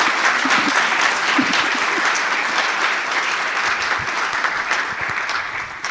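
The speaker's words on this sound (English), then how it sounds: "give her a big applause" An audience at a game developer conference talk gives loud, continuous applause for an art direction speaker, a thick even roar of many hands clapping with no talk over it.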